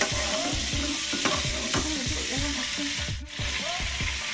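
Steady sizzling and crackling of marinated chicken frying in butter in a hot pan, continuous and close, with occasional stirring scrapes.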